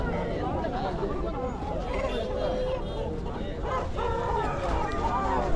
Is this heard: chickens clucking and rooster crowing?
yes